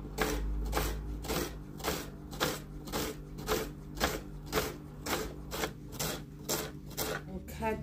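A knife chops onions and tomatoes on a board in regular, evenly spaced strokes, each one a short crisp cut repeating steadily at close range.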